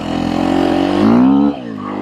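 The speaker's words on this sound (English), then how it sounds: "It's a brand new motorcycle." A brand-new French-made Sherco SEF 450 dual sport motorcycle engine revs loudly and close, its pitch climbing steadily before dropping off sharply as the throttle closes.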